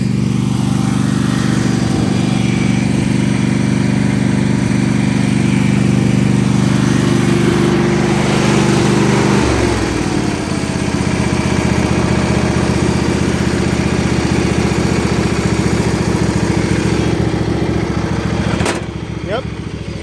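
A Husqvarna lawn mower engine runs loud and close with a steady idle drone, shifts its tone partway through, then keeps running before cutting off near the end.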